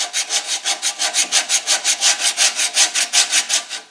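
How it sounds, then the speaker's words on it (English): A homemade sanding rasp, cloth-backed abrasive glued to a paint stirrer, works back and forth in a thin wooden slot, giving about twenty rapid, even rasping strokes close up with no talk. "And do all the sanding I need."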